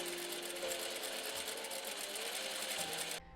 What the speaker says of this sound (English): Turn the bias tape to the right side and sew another line close to the edge.